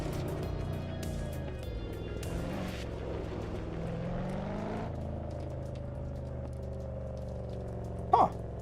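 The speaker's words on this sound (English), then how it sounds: "I heard a car" A car engine in a home-built racing simulator video game drones steadily under a layered mechanical hum, with a brief sharp click near the end.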